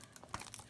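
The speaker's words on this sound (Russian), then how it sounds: "Сейчас распакуем этот пакетик." Small plastic bag from a MikroTik hAP ac3 router box being unpacked, a few short crinkling rustles close by, quiet and alone.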